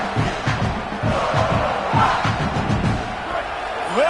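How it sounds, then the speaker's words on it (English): A football stadium crowd roars loudly to help the home defense, a dense sustained wall of rhythmic chanting and yelling, with a commentator talking over it. "Listen to this crowd just shaking the girders of this place trying to help their defense."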